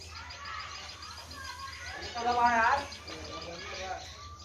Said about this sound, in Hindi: चिड़िया भी उड़ रही है